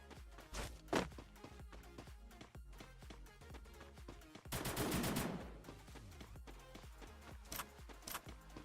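Rapid automatic gunfire from the video game Free Fire MAX comes as a steady rattle of closely spaced shots, broken by a few louder single bursts and one dense volley. It plays fairly quietly.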